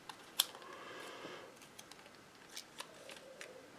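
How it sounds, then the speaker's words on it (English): Scissors snip through white paper while cutting out a bottom portion for a pop-up slider card, giving a few quiet, scattered crisp clicks and snips at close range. "I am going to just cut this out of this bottom portion"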